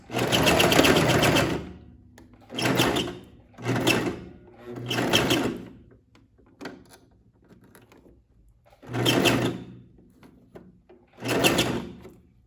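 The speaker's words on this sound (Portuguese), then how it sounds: "Vou realizar o fechamento do cinto faixa com costura reta." A sewing machine stitches a straight seam to close a sash belt, running in short whirring bursts of one to two seconds each, with brief pauses between them, close and clear, without talk.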